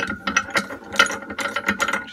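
A ratchet wrench unscrews a bolt on a Lambretta scooter's engine mount, giving close, rapid bursts of clicking in an uneven rhythm, each burst a short run of metallic pawl ticks.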